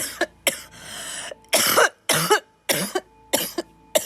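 A person coughs repeatedly after taking a hit from a bong, in a series of about eight harsh, close, loud bursts with short gaps between them and some raspy throat-clearing.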